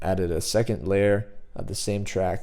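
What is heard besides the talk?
No everyday noises stand out.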